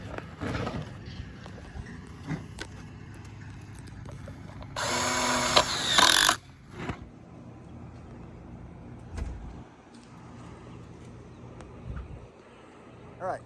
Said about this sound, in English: while he's drilling, screwing